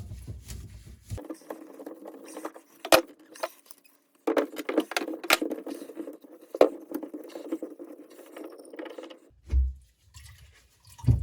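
Water drips and trickles from a sink P-trap into a bowl under a clogged drain, sparse sharp drips landing in short patters and small splashes, quiet and close with no talk.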